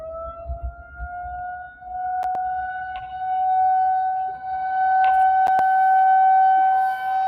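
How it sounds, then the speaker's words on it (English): A tornado siren wails steadily, its long sustained tone slowly swelling in volume from a distance, with a few faint clicks and no voices. "Are they testing the tornado sirens or something? There's one going off right here."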